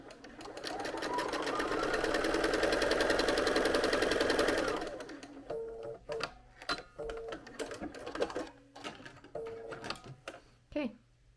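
A domestic sewing machine chain stitches quilt pieces in one steady, fast run of about four and a half seconds, followed by a spoken voice with small handling clicks.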